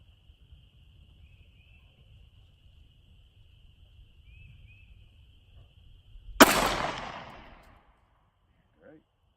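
A single sharp Glock 48 pistol shot at an indoor range, loud and close, fired by a new shooter, ringing into a decaying tail after a quiet stretch with faint background hum.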